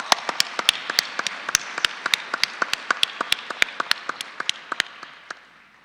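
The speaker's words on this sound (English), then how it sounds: "I'd like to call for a round of applause for all of our speakers." Audience applause for the speakers at an ocean leadership consortium event: a sparse, small room of listeners clapping in distinct, crisp claps that gradually thin and fade.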